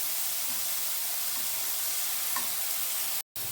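Green chillies frying in a pan for a poppy seed chutney give a steady, close sizzling hiss that runs evenly for about three seconds, then cuts out briefly near the end.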